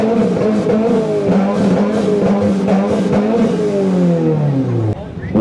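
A 2018 Subaru WRX engine revs loudly at a car meet while the driver double-clutches through shifts. The pitch climbs and drops in repeated surges and stays close and continuous until a sharp cutoff near the end.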